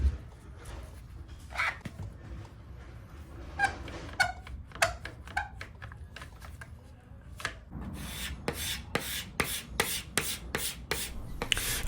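Hand sanding of a laminate table found on the roadside: soft irregular rubbing strokes, then a run of quick evenly spaced rasping strokes in the latter part, fairly close and quiet.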